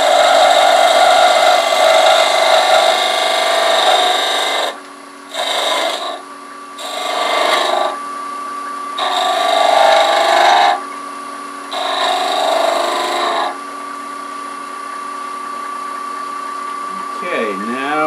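A woodturning lathe with a turning tool cuts a wooden salt and pepper shaker, giving a steady rasping scrape that drops away and returns in short bursts as the tool lifts and re-engages, fading near the end.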